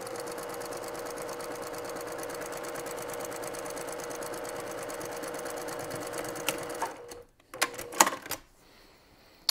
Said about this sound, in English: And now I'm actually backstitching because I'm not doing any more trimming.